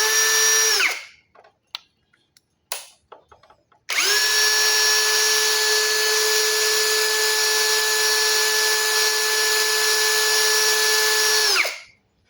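A DWE brushless cordless drill runs at high speed, about 1350 rpm, with a steady whining tone. It gives a short burst first, then a few brief taps, then a sustained run of roughly eight seconds that winds down at the end.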